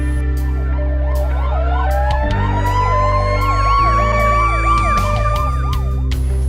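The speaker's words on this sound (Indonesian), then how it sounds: "ketika ada ambulans datang dari kejauhan, bunyi sirenenya sudah terdengar oleh kita?" An ambulance siren wails loudly and continuously in a repeating rising-falling pattern over a low engine drone, growing slightly stronger as it approaches; no voices.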